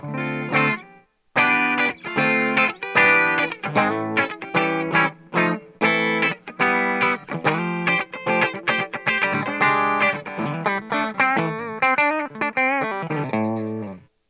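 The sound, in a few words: electric guitar single coil pickups, clean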